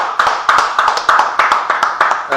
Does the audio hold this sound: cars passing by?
no